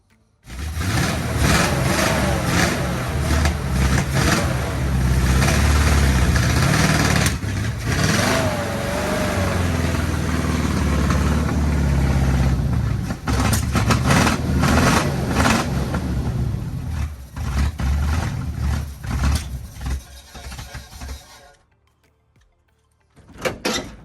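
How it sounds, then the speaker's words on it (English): A 1972 Chevy short box 4x4 pickup engine runs roughly after sitting for 20 years with fuel delivery trouble, loud and close, rumbling unevenly with surges for about twenty seconds before cutting off into quiet. "It just doesn't seem like it wants to run very good."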